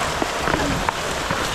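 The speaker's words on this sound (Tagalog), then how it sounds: "Ay, tuloy-tuloy na yung ulan" Steady rain falls after a typhoon, a dense, continuous hiss with scattered drip-like taps standing out close by.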